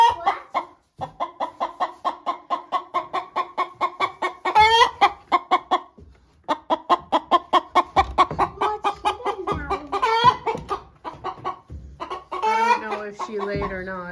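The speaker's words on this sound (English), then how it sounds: "Stetson harassing a chicken who's trying to lay an egg." A hen trying to lay an egg gives rapid, repeated agitated clucks in bursts, close and fairly loud, rising into louder squawks near the end.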